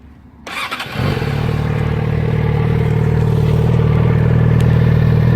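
A stock-exhaust Yamaha XJ6 motorcycle with 10,500 km on it cranks and fires within the first second, then settles into a steady, loud, even idle rumble that carries on alone to the end.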